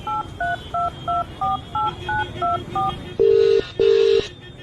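A phone number keyed in for an eerie tale: about nine quick, evenly spaced touch-tone beeps in a brisk rhythm, then two longer, louder ringback tones over faint background hiss.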